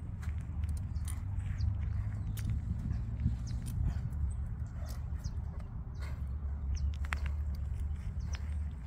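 A sound, agile zaino malacara pony walks steadily, its hooves giving soft, fairly faint clip-clops over a constant low background hum.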